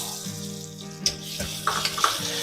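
Potatoes go into a sizzling turmeric tempering for ragda, a close, steady fry hiss broken by several sharp spatters and a utensil clatter.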